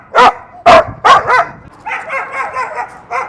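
Dogs at a training session bark loudly in three sharp, close barks, then break into a run of quicker, softer yips and whimpers.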